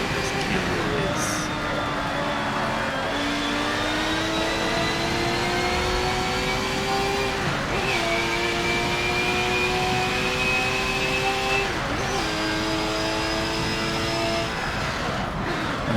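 An Aston Martin race car engine in Forza 7 drones steadily at high revs, with smooth rising pitch sweeps between gear shifts around the seventh and twelfth seconds, loud and continuous throughout.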